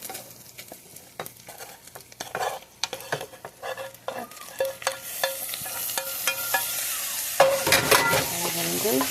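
Chorizo and cooked potatoes frying in a pan as they are stirred, a continuous sizzle under repeated scraping and clattering of a utensil against the pan, close and fairly loud.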